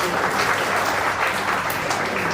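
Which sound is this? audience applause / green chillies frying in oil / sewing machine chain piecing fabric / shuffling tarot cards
audience applause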